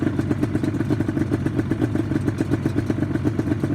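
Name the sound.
motorcycle engine idling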